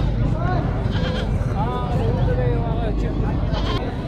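Goats bleat among a busy crowd at an Orangi Town, Karachi livestock market, several wavering calls rising over steady chatter and background noise, with people talking nearby throughout.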